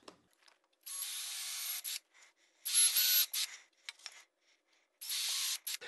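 Drill countersinking pre-drilled holes in wooden miter slot runners for a table saw miter sled, three separate short bursts of high-pitched whirring and grinding separated by quiet gaps, close up.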